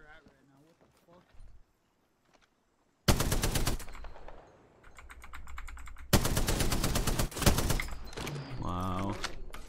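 Rapid automatic gunfire in the Apex Legends video game, two loud sustained bursts of closely spaced shots with a brief lull between, preceded by quieter movement sounds, while a player talks over the action.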